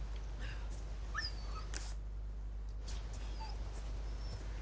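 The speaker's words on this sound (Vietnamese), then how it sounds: "Nghe tiếng con chó đâu nhỉ?" A dog in Resident Evil 4 Remake gives a few faint, distant whimpers and yips, short high whines scattered over a low steady background hum.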